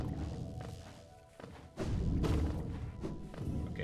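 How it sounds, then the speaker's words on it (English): An explosion in the video game Hollow Knight, a deep booming thud that swells midway after a quieter stretch of game sounds, then lingers as a rumbling tail. "It's a big explosion."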